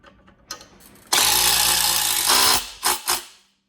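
A ratchet cranks a 14 by 3/4 bolt to pull a fender up during a Skua X assembly. A few light clicks lead into a loud, close, steady mechanical whirring run, then two short bursts before it stops.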